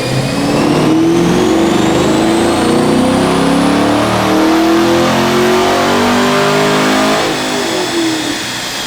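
A Stage 4 Corvette C7 Z06 engine revs hard on a chassis dyno, a loud, close roar climbing steadily in pitch through a long pull before easing off near the end.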